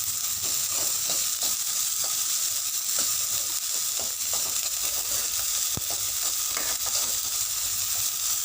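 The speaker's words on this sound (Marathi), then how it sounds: "मोठ्या गॅसवर ह्या भाज्या थोड्या फ्राय करून घ्यायच्या आहेत." Vegetables including green onion, peas, carrots and cabbage fry on a high flame for sweet corn soup, giving a steady, dense sizzle with small crackles and stirring scrapes throughout, close and continuous.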